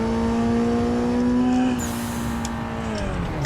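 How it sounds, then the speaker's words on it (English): A drift car sliding through a turn after a handbrake pull, its engine droning loudly and steadily up close before the pitch drops and tyre noise scrubs across the corner. "Use the handbrake to initiate and can kind of drift."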